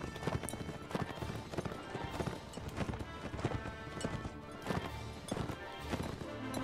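Galloping horses in the medieval combat game Mount and Blade Warband: a steady, dense clatter of hooves, with an occasional whinny, continuing loudly and evenly throughout.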